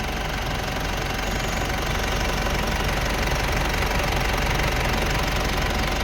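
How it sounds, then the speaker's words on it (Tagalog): A Mitsubishi Strada 2010 4M41 turbo diesel engine idles just after starting, a loud, steady, close clatter with constant diesel knock and no voices. "narinig naman natin na sobrang smooth ng andar ng makina"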